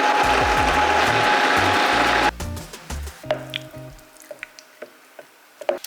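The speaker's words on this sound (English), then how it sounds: "So I am going to cut them and place them directly in the food processor." A food processor blends cut peaches with a loud whirring motor for about two seconds, then stops. Scattered mechanical clicks and clatters follow as the machine is handled.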